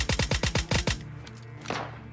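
Rapid automatic gunfire in PUBG Mobile Lite, a burst of about eight loud evenly spaced shots within a second, followed by quieter distant game ambience and a faint later report.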